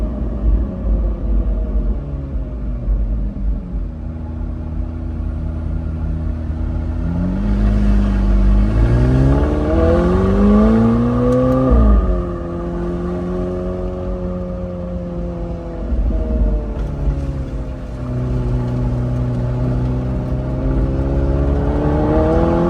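A 2022 McLaren 720S Spider with a Ryft exhaust, running a lower-octane pop tune, idling then revving repeatedly, its pitch sweeping up and falling back in deep, close, loud engine surges.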